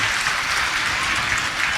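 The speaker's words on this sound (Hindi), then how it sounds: "सभी एक दूसरे के लिए तालियों की गड़गड़ाहट कर रहे हैं" A crowd at a religious gathering claps together in dense, continuous applause that fills the whole moment at a steady loudness.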